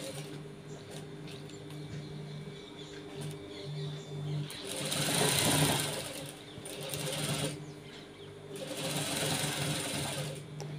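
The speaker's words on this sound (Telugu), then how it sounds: "ఇప్పుడు దాని మించి ఒక పాదం కుట్టుతో కుట్టు వేయాలండి" A sewing machine stitches a gents shirt collar, running in a close steady mechanical whir for two longer bursts with quieter stops and handling between them.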